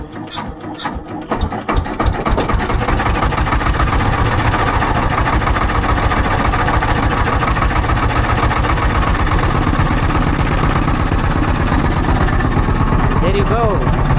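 A motorboat engine drones loudly and steadily on a boat ride at Honnavara, starting up and settling into a constant close roar that holds throughout.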